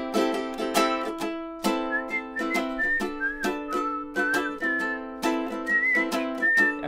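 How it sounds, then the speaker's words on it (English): A person whistles a tune up close over a bouncy backing of rhythmic musical chords, the clear whistled melody rising and falling in short phrases with no talking. "Can't whistle for shit."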